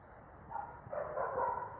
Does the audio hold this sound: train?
no